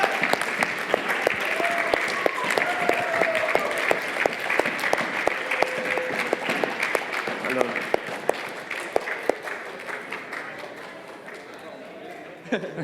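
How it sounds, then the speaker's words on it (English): Audience applause for a second-place Norwegian team at a live Nordic esports tournament stage, dense sustained clapping with sharp individual claps standing out, gradually thinning while an announcer keeps talking over it. "Give them a round of applause, people."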